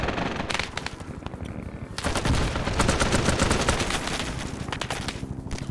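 Dense gunfire and artillery explosions in the Vietnam War game SOG Prairie Fire, with sustained automatic bursts and heavy booms that swell louder about two seconds in and continue as a constant barrage.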